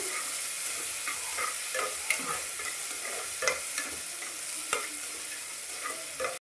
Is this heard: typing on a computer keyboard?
no